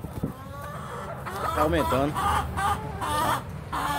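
Laying hens in a poultry setup cluck steadily and close by, with overlapping calls and a rooster-like crow mixed in, while someone speaks briefly over the flock.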